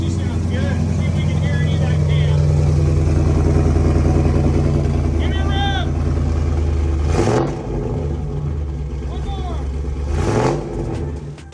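A turbocharged 6.2-litre Hellcat engine in a Ram truck with new Texas Speed headers with 2-inch primaries, droning loud and close at steady revs before dropping and rising again, with voices talking over it.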